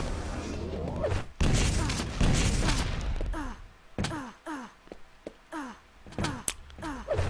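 Rocket launcher shots fire in a fast online TDM match, a run of sharp thumping blasts with whooshing tails coming in quick irregular succession, loud and close.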